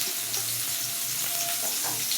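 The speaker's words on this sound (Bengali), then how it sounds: "দিয়ে এটাকে লাল করার জন্য একটু ভেজে নিই।" Chopped onions and green chillies fry in hot oil in a pan, giving a steady, close hiss and crackle of sizzling with no voices over it.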